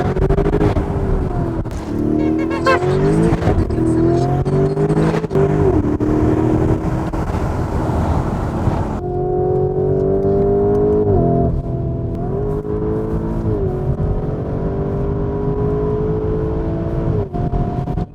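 A Lamborghini Urus engine revs hard through turns on a test drive, loud and continuous for the whole stretch, its pitch rising and falling with each throttle push and gear change; no one talks.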